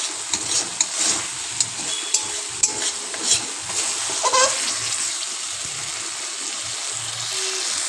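Spice masala for vegetarian ghugni fries over a medium flame as its water cooks off, with a steady sizzle under a run of quick scraping stirs that bunch early and then ease, close up, no voices.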